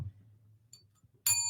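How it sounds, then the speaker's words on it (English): A bell is struck once near the end, giving a bright, ringing ding that sustains after a quiet low hum. "Hit the bell."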